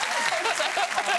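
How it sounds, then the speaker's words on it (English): Brief burst of audience applause, dense hand-clapping at steady volume throughout, rising from a studio crowd on a chat show. "I just heard NHS and clapped out of panic"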